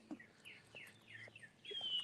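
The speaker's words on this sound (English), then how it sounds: "Birds are chirping." Birds chirp in the early morning outdoors, a series of short, faint, evenly spaced tweets with a brighter call at the end, fairly distant against quiet background.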